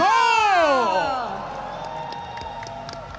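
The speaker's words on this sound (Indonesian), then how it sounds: "Sekali lagi kita berikan tepuk tangan untuk Senko!" An esports crowd at the Honor of Kings IKL grand final cheers for the final MVP, a broad roar that starts under a loud, rising announcer's voice, then lingers steadily and fades slightly.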